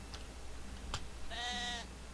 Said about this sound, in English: Poke the sheep. Bah!